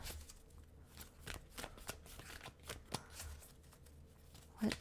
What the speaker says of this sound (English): I'm going to pull 3 additional cards here to get advice from Spirit